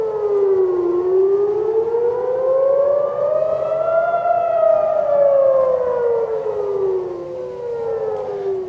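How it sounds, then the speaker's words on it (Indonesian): A loud wailing air raid siren rises and falls slowly in pitch, sustained without a break, echoing across Jerusalem at night during a missile attack. "saat sirine berbunyi pada Selasa malam di seluruh Yerusalem"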